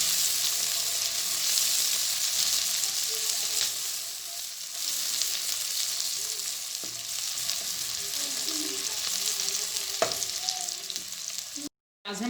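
Ingredients fry and brown in a pan for a village-style aloo gobi paratha, a steady close sizzle with occasional stirring clinks and scrapes, no talking.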